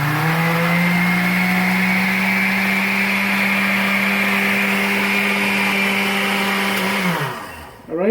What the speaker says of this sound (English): Turn on my blender.